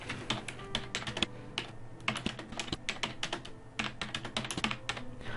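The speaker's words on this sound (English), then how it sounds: "then you can just really type in whatever you want the scenario to be" Rapid, steady keystrokes on a computer keyboard, close and fairly loud, with clustered bursts of clicking and brief pauses between words, no voices.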